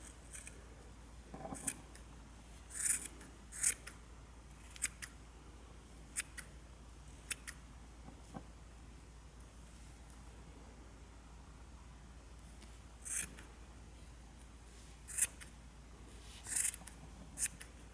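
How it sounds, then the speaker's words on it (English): Scattered short scissor snips, some in quick pairs, cutting through yarn loops against a quiet background with long pauses between cuts. "we're going to go ahead and cut these loops."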